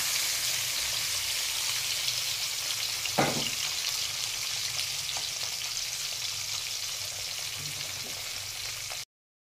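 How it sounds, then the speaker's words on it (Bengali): Pabda fish frying in hot oil in a home kitchen, a dense continuous sizzle close by with one sharp clatter partway through, then it cuts off abruptly near the end; no talking. "মাছটা আমি ভাজি।"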